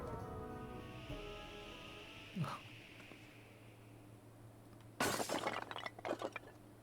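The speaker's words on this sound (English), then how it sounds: "A vase flung to the ground with reckless abandon." A vase shatters on the ground in Final Fantasy XIV, a sudden crash of breaking glass and ceramic with scattered clinking shards after a quieter ambient lead-in.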